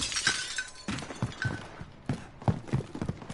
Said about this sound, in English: Who's that smashing glass?